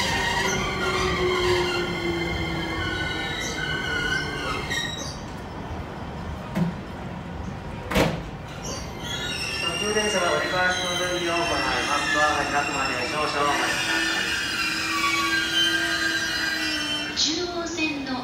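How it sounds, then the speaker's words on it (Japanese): A JR East E257 series passenger train rumbles and squeals as it moves along the rails, with tonal motor whine and steady wheel noise, heard up close. "本日は E257 系に乗っていこうと思います。"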